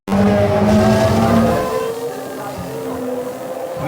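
Formula One race cars streaming past on a circuit, a loud close engine roar that fades into a sustained, more distant whine as the cars go by.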